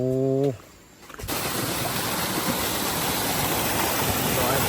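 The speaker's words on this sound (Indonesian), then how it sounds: "Terjun kawan." A waterfall roars on a jungle river deep in the forest, near the river's headwaters. After a brief tonal sound at the start, a loud, steady rush of falling water fills the rest of the clip.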